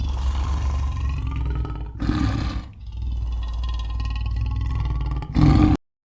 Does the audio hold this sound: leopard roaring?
yes